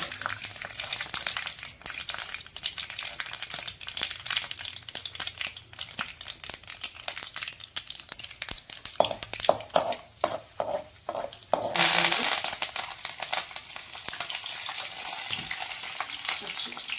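Mustard seeds and chana dal sizzle and crackle in hot oil in a home kitchen, a dense, steady frying hiss with scattered pops and occasional stirring or rustling, close and continuous with no talking.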